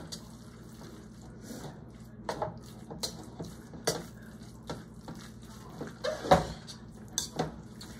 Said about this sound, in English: I'm just gonna kind of give it all a mix around.